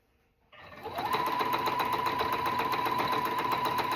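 A sewing machine with a standard presser foot runs a straight stitch through three layers of a rag quilt. It starts after a brief quiet moment and then hums and whirs at a steady, fairly fast pace.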